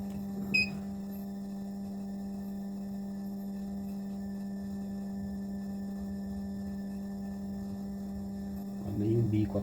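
A Kitest KA201 fuel injector test and cleaning machine, checking GDI injectors from a Corolla, drones with a steady electric hum as pressure is raised for the leak test, close and constant with a few faint clicks.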